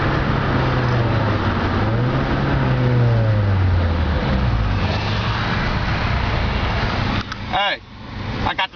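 Cars race side by side with close, loud engine roar, one engine climbing in pitch as it accelerates, and voices talking over the noise near the end.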